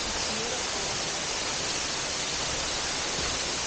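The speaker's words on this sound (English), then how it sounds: "We come around the corner and here's a big giant waterfall." A big waterfall roars as a steady, dense broadband rush, loud and unbroken throughout with no talk over it.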